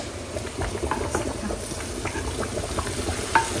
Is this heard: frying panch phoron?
yes